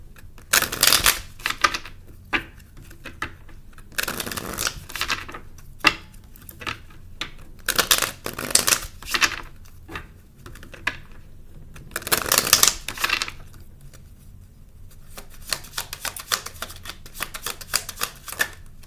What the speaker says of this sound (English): I'm going to pull one more card from here.